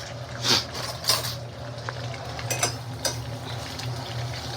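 Garlic fries in oil for a spicy kara chutney, giving a steady crackling sizzle with a few clinks of a spoon or utensil against the pan.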